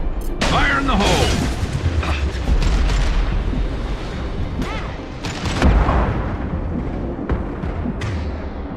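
Grenade blast from Mass Effect Legendary Edition combat: a heavy boom lands near the start among dense gunfire and battle noise, with further crashes and rumble throughout, loud and close.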